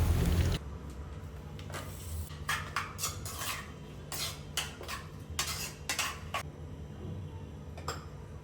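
A spoon clinks and scrapes against a bowl as curd gojju is stirred, producing short bright taps in uneven bursts over a quiet room background.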